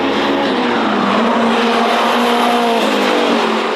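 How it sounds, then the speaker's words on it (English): A turbocharged Honda S2000 race car accelerates hard in third gear on a race circuit, passing a Mazda RX-8. A loud, close, sustained engine roar rises in pitch, with no talk. "easily passed as the turbo comes back on boost in third"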